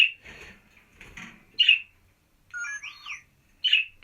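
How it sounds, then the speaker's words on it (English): A bird chirps and whistles in short bursts, a few sharp high calls and a warbling trill separated by brief pauses, fairly close in a quiet room. "my house bird making his sounds over there"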